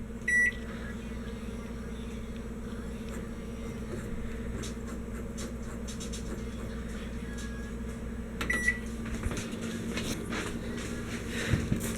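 A Grainfather brewing controller timer beeps on brew day as the wort boils at 212 degrees, giving two short, thin electronic beeps, one at the start and one near the end, over a steady low hum.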